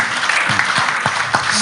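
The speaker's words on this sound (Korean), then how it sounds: "박수 한번 다시 한번 치시고." Audience at a church denomination talk show clapping again on cue, a loud, steady wash of applause with a few sharper individual claps standing out, no voices on top.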